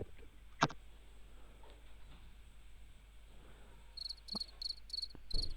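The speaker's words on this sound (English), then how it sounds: "Crickets." Steady crickets chirp in the background, with a few brief clicks and short bursts of higher chirping toward the end; no talking.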